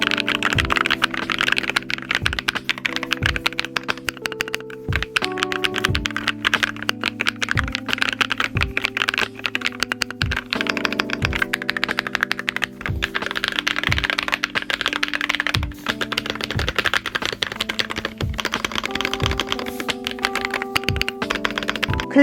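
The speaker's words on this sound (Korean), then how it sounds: "이 타건음이 축에서 발생하는 소리가 아니라 이 키캡과 합판이 부딪히면서 나는 소리가 있어요" Someone types steadily and at a close distance on a G-Clicker SPK100 wireless low-noise keyboard, producing dense, rapid keystroke taps and clacks as the keycaps strike the plate. The typing continues throughout, with no speech.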